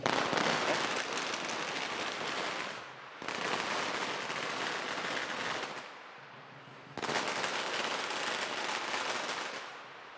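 Loud, dense crackling bursts of firecrackers at a Chinese New Year parade in San Francisco, going off in long rapid volleys of about three seconds each, split by brief quieter gaps.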